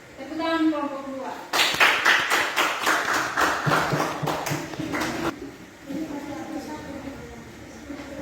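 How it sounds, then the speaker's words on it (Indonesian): A classroom of students gives a group a round of applause, a burst of rhythmic clapping that swells and then fades, with talking heard before and after. "Tepuk tangan kelompok 2."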